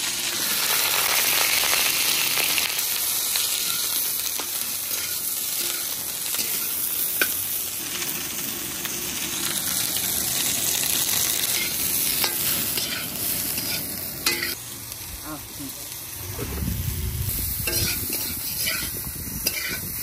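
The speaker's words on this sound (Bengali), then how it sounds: "কপি ভাজা মোটামুটি শেষ।" Cauliflower with green peas frying in a pan outdoors in a garden, continuous loud sizzling hiss with clattering stirring scrapes throughout, close up.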